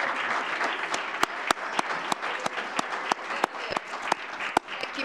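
Audience at a mayor and city council candidates forum applauding, a moderate crowd clapping with several sharp, distinct individual claps standing out close by over the steady patter.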